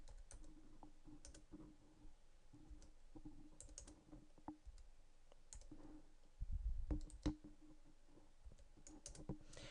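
Fingers type a number on a computer keyboard in short bursts of quiet, close key clicks separated by pauses, with a slightly heavier cluster of taps near the end; no voices.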